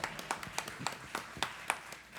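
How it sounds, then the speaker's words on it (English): Scattered applause from the audience at a country music opry show, a handful of separate, fairly faint claps spread unevenly across a short stretch. "Go ahead and give him a great big round of applause."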